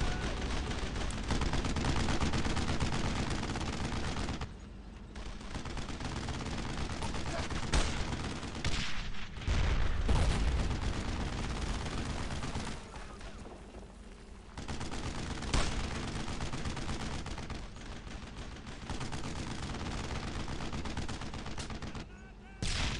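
Gunfire from the World War II shooter Brothers in Arms: Road to Hill 30: dense, sustained bursts of rifle and machine-gun fire, loud and continuous with brief lulls, and shouting voices mixed in.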